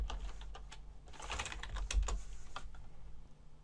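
Rapid typing on a computer keyboard, light clicking keystrokes in quick irregular bursts over a low steady hum, with no talking.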